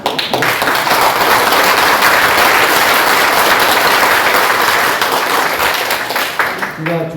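An audience applauds at the opening address of a forum, sustained loud clapping from a crowd that swells and then tapers off near the end.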